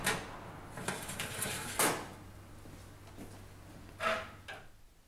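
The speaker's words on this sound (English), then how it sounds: "now we'll replace the oven shelves" Metal oven shelves being slid back into a CDA fan oven during a repair, giving a few short scraping clatters near the mic: a burst just before one second, a louder one near two seconds, and another around four seconds, with quiet handling between.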